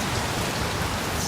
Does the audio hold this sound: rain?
yes